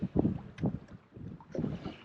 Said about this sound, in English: Now we're out here in the wind.